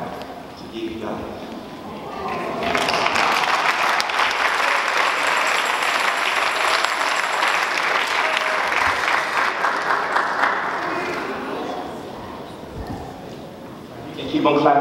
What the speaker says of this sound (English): You can keep on clapping.